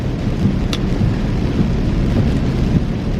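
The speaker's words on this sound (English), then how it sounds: "God, it is so much rain out." Heavy rain pours steadily outside as a dense, constant wash of hiss and patter, loud and close, with no voices over it.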